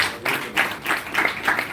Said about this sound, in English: Another round of applause for the